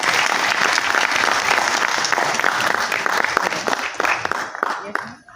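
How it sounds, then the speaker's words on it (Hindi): Anniversary event audience breaking into loud, close applause, dense clapping throughout with some voices mixed in, thinning out toward the end. "एक बार तालियां दोस्तों"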